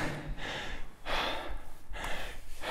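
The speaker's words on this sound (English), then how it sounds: "like me, you're breathing hard and" Heavy, ragged breathing from someone pushing through a max-intensity indoor rowing sprint, with loud rhythmic gasps and exhales repeating about every second, close and alone.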